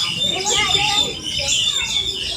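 A pet bird chirping in quick, high repeated tweets close by, mixed in with people talking nearby.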